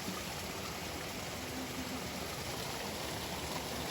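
Water in a stream flows beside a hiking trail through gorges and peaks, a steady broadband rushing that stays even and close throughout, with no voices.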